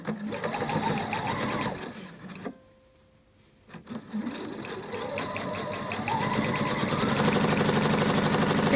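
A domestic sewing machine stitching a patchwork seam runs loud and close at a steady whirr, stops briefly, then starts again and speeds up.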